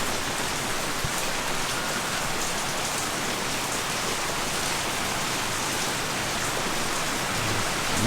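Steady rain falls outdoors in an even, continuous broadband patter across the whole stretch, with a faint isolated tap near the start and no voices.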